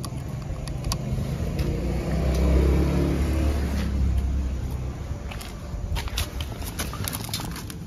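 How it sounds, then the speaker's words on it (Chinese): A small motor vehicle with low idle and hard starting runs close by, its engine note rising to a rev and easing back down, with faint clicks and knocks scattered over the running engine. "那个怠速有问题，就是打火困难啊，然后看那个转速"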